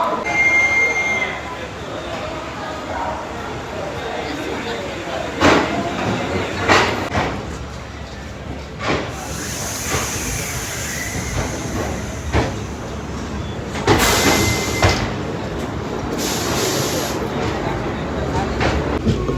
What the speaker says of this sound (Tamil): போட்மைல் எக்ஸ்பிரஸ் ஆன் டைம் 7:15 சென்னை எக்மோர்லேருந்து கிளம்பிச்சு மக்களே